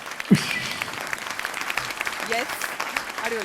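A theatre audience at a comedy show claps in a sustained burst of applause, bright and fairly close, while a voice talks over it.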